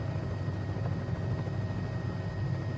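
A Bell 206B3 helicopter in a flight simulator, flying near Wickenby, with a steady droning engine and rotor hum that holds constant and fairly loud throughout.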